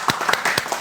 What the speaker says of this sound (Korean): 사모님한테 박수 한번 부탁드리겠습니다.